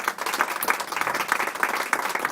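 An audience claps for a finalist at a slam poetry event, a moderately loud burst of many hands with distinct individual claps standing out in an uneven rhythm.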